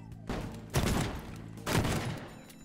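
Video game gunfire in a boat-building game as shots hit a post: two loud, close booming shots about a second apart, each trailing off into a rumbling decay.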